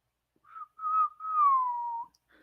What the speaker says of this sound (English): I'll be whistling like a maniac right now.